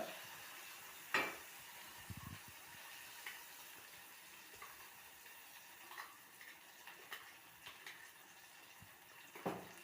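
Faint, steady sizzling of a spice tempering frying in a pan for gongura (sorrel leaf) chutney, with a few soft clinks and scrapes scattered throughout.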